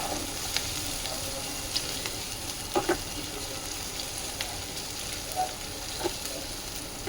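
Grated ginger frying in a pan makes a continuous close sizzle, with a few soft knocks and scrapes from stirring scattered throughout.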